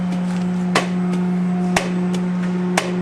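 A board of 11 Deltrol solenoid valves on a life-cycle test rig clicks sharply once per second over a steady electrical hum, with fainter clicks falling between the main beats.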